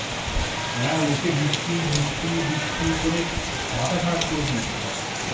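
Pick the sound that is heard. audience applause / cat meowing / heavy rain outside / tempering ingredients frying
heavy rain outside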